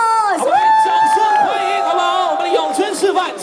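A loud crowd cheers and whoops with rising and falling shouts, an excited audience reacting close by.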